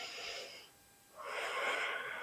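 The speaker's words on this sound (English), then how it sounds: "Breathe in and out." Breathing during a pregnancy barre and Pilates stretch: one long breathy exhale, a short pause, then a fuller airy breath, close and soft with no speech.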